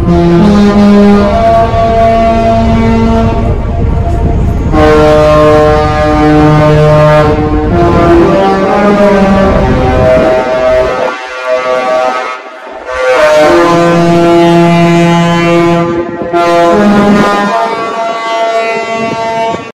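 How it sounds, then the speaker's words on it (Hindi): A deep cruise ship horn blasts repeatedly in port, long loud sustained tones separated by short gaps, booming and dominant throughout. "शिप हॉर्न करता."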